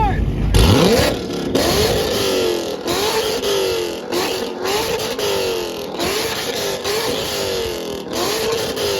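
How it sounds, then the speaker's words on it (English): A Chevrolet Corvette C7 revs hard at a car meet rev battle, loud and close, with about half a dozen sharp throttle blips that rise and fall in quick succession over a constant rumbling idle. "we have a Hellcat, and we have a C7. Let's go ahead and hear that C7 first."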